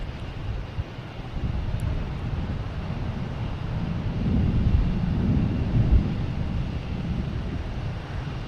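A Spirit airliner landing on runway 27 at Boston Logan, heard as a distant, low rumbling roar that slowly swells and then fades under steady wind noise on a cloudy day.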